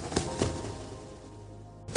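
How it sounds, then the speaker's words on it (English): Enemy footsteps from a FNaF fangame play as a few soft, evenly spaced thuds over a quiet low hum. "Both sides use a different audio file, and they both sound like this."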